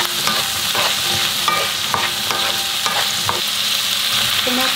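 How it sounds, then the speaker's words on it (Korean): Onion and zucchini stir-frying in olive oil for zucchini spaghetti, a steady loud sizzle with repeated scraping stirs of a utensil in the pan, no voices. "올리브 오일입니다. 양파 넣어주었고요, 호박도 넣어주었고요,"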